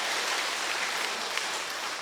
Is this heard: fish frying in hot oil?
no